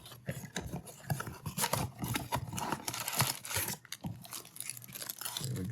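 Topps Stadium Club 2024 trading card pack being ripped open up close, a busy run of crinkling foil tears and crunchy rustles in quick irregular bursts, with no talking.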